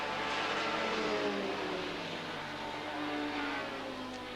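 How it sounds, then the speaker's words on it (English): IMSA GTP prototype race cars lap Lime Rock Park during a 1991 race, their engines making a steady, loud, broadband roar with a sustained tonal drone and no talk over it. "This race is going down at record pace, flying around the racetrack."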